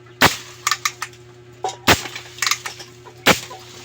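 A pump air gun, its o-ring just replaced, fires a sharp loud crack after three pump strokes, and sharp cracks and clicks recur at irregular intervals with quiet between them.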